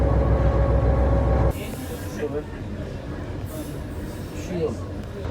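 Old Yugoslav passenger train rolling on rails, heard near and loud through an open window: heavy rumble that drops after a moment into lighter clattering wheel and carriage noise.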